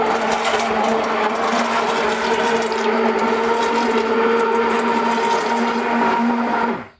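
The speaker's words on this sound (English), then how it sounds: "Okay, so you just get a stick blender." A stick blender blending milk kefir whirs loudly and steadily for several seconds with a churning liquid sound, then cuts off abruptly at the end.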